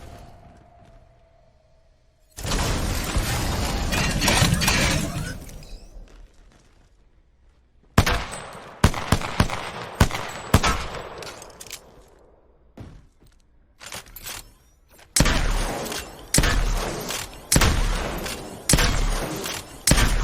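Gunfire and an ultimate ability in the Apex Legends video game: a loud sustained rushing burst, then rapid clusters of sharp shots and impacts that come in repeated volleys and pauses.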